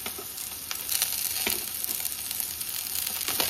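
Green chillies and curry leaves frying in hot oil, a steady, loud sizzle with crackling spits running throughout, no voices.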